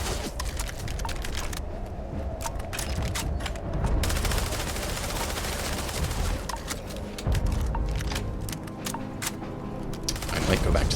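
Rapid gunfire in the space game Starfield, dense crackling bursts of shots and clicks running throughout at moderate distance, with a person talking over parts of it.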